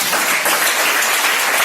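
A congregation at a French-language church service applauds the anointed one, a steady, dense wash of clapping filling the whole stretch without a break.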